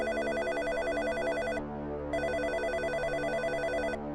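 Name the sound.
telephone ringing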